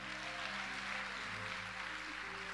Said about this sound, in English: So dear mother, clap for yourself.